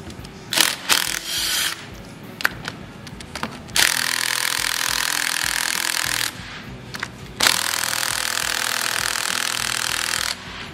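A socket wrench with a 14 mm socket works bolts on a Tuff Torq hydrostatic transmission during a rebuild, with scattered clicks and clanks followed by two long, loud stretches of harsh mechanical noise and no talking.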